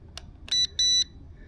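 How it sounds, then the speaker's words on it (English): Calibration beeps from a JJRC X40 Pro GPS camera drone: two short, shrill electronic tones in quick succession, close and loud over a quiet background. "So we should get a beep."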